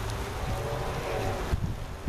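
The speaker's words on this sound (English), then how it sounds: "it is windy as hell" Strong wind buffets steadily throughout, a dense roaring hiss with low gusty thumps against the microphone.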